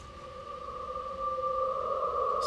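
A spooky synth pad built with Operator, grain delay and a long reverb holds two steady sustained tones, slowly swelling and faintly shimmering over a soft noisy wash.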